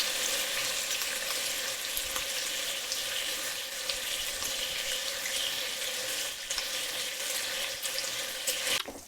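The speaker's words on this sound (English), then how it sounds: "saute the bacon in the oil over moderate heat for 2 to 3 minutes to brown lightly" Bacon browning in olive oil in a pan over moderate heat gives a steady, dense sizzle and crackle that stays loud and even throughout, with no talking.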